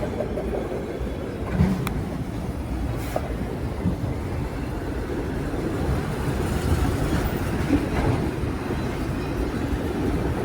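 A train rolling past on rails, a continuous loud low rumble and clatter with faint metallic squeaks, steady throughout with no voices.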